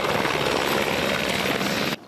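A helicopter flies over coastal waters near Hawaii during a rescue training exercise, its steady rotor and engine roar loud and continuous before dropping off abruptly at the end.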